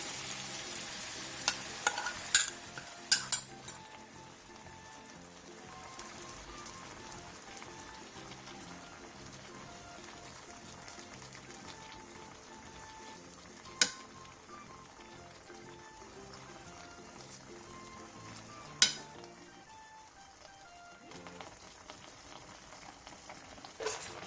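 Spicy braised tofu in seasoning sauce simmers in a pan over medium-low heat, a faint, steady bubbling and sizzling broken by a few sharp clinks and taps.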